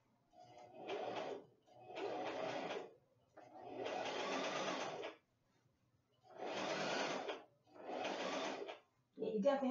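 A sewing machine runs a straight stitch in six short bursts of steady whirring, each a second or two long with quiet gaps between, close and fairly quiet.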